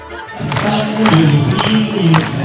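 Crowd of football fans at a stadium where Dynamo Kyiv's star team plays in Novodnistrovsk, with a loud, continuous roar of cheering and applause and bursts of shouting voices, steady throughout.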